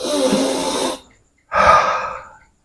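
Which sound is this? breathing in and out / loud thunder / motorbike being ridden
breathing in and out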